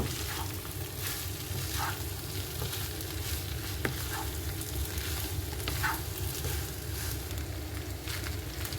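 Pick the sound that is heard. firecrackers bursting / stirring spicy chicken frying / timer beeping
stirring spicy chicken frying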